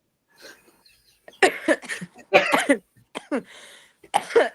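Several short, harsh coughs in quick bursts, close up, mixed with breathy, laugh-like exhalations and brief pauses between.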